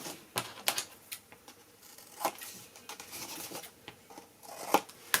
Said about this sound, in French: Je marque bien mes plis.